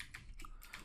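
Fast, light keystrokes on a computer keyboard entering a command, a quick run of soft, close clicks lasting under a second.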